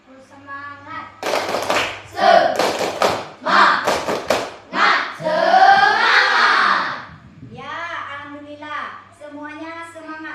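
A school class performs the rhythmic 'tepuk semangat' clapping chant, led by a student. Sharp group claps fall in quick bursts, interleaved with loud chanted voices, then fade into a quieter vocal stretch.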